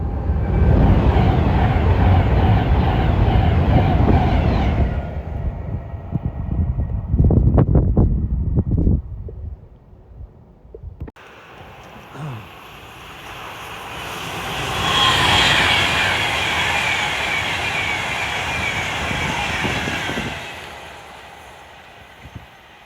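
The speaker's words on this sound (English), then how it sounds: "We've got a 390 Pendolino, Avanti West Coast," An Avanti West Coast Class 390 Pendolino train rushes past at Polesworth with a loud roaring whoosh, drops away, then a second swelling rumble rises and fades, with no talking.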